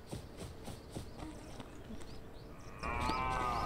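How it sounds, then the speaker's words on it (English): Cow mooing inside a video game, a farm animal call that is soft and somewhat distant over a quiet ambient bed with light taps, followed by a brighter tonal game sound near the end. "I heard a cow."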